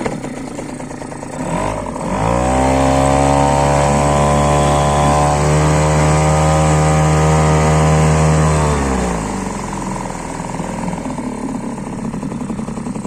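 A Parsun 3.6 outboard boat motor starts up and runs with a steady, loud droning hum for several seconds, then drops back to a quieter idle.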